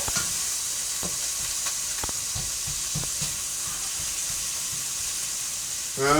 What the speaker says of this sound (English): I'm frying the yogurt to the pan in hot oil.